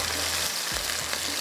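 Fish with vegetables frying on a high flame, a steady loud sizzle throughout with faint stirring.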